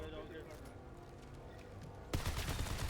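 Gunfire in a Marathon PVP shooter match, starting with a faint murmur of game sound and rattling shots, then a sudden loud burst of close, rapid firing in the last second.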